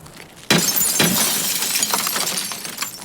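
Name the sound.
video game Escape From Tarkov: character's back hitting bus glass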